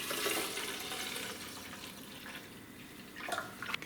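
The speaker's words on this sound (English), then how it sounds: "fill your reservoir up with half vinegar," Water and white vinegar poured into a Keurig coffee maker's reservoir, a steady splashing, hissing stream that trails off near the end with a few drips, close and alone.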